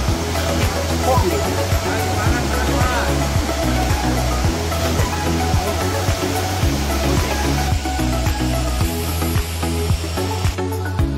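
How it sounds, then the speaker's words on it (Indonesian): Sendang Gila waterfall at Senaru pours in a steady, loud broadband roar that fills the whole stretch, with a faint rhythmic thumping pulse underneath and no clear talk over it. "Alhamdulillah, kita sudah sampai di air terjun Sendanggila."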